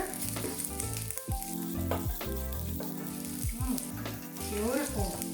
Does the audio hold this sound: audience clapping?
no